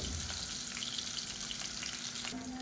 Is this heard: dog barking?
no